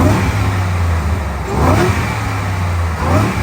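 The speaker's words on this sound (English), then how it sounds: "here's a rev with the stock intake box" A Ford Raptor R engine with its stock intake box gives a couple of muffled revs over a steady low rumble, heard from close by.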